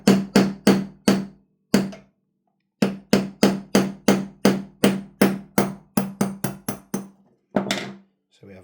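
Hammer tapping a pin punch into an airsoft KWA/KSC MP9 gas blowback bolt: a quick burst of five sharp metallic strikes, a pause, then a long steady run of about fifteen close, loud taps easing off, with a final knock.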